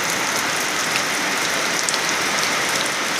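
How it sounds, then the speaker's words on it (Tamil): Heavy rain pours down steadily near Kalakkad, a dense, constant hiss of drops drumming on surfaces with no voices, close and loud throughout. "நல்ல மழை பெய்ய ஆரம்பிச்சிடுச்சு"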